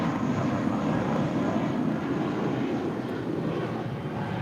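United Airlines Airbus A320 departing LAX for San Francisco, a steady close broadband jet engine roar that holds at constant loudness with no speech.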